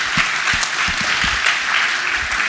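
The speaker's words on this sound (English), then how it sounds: "let's clap for that" An audience at a church panel for young adults claps together, a close, dense burst of applause that lasts the full span with no speech over it.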